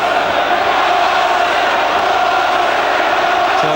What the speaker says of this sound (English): the heavy chanting of the crowd